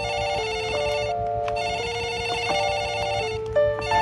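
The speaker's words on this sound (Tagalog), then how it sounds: "Nang biglang tumunog ang telepono." A telephone rings steadily and loudly, an electronic tone warbling through a repeating pattern for several seconds with no talking over it.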